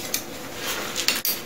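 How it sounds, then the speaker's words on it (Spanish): Spanish army cutlery set of fork, spoon and knife being handled, with a few light metallic clinks and rattles over soft rustling, close and quiet. "dentro de este bolsillo tengo mi set de cubiertos del ejército español"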